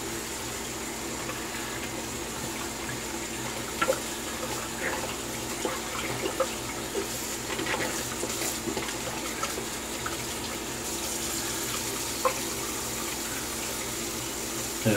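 Tap water runs steadily into a sink while a Japanese kamisori straight razor is rinsed after a shave, a constant close hiss and splatter lasting the whole stretch with faint clatter and no speech.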